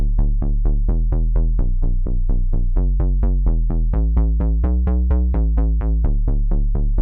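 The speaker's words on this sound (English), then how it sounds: "It's a square bass." A square-wave synth bass from Reason Studios Europa plays a steady run of punchy, buzzy notes with a repeating rhythm, loud and up front, with no voices.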